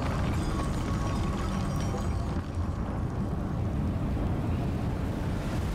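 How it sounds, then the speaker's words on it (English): A strong gust of wind blows in Shadow of the Tomb Raider, heard as a loud, continuous whooshing roar with no talk over it. "Yep, there's a gust of wind."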